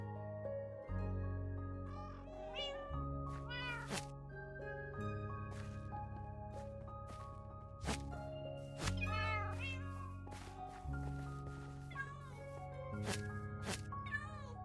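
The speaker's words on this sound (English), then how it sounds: "We're gonna need our cats." Several Minecraft cats meow repeatedly in scattered, gliding calls over sustained game background music, with sharp clicks from gameplay punctuating throughout.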